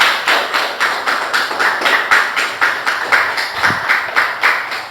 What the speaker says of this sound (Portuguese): Então aplausos ao Senhor Jesus.